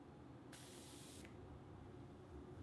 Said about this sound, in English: This is the Morphe x Jeffree Star setting spray.